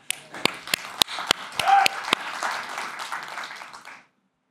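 A brief round of applause from a small audience at a tech talk: a few sharp, separate claps at first, then a short burst of clapping, with murmured voices, that fades out after about four seconds.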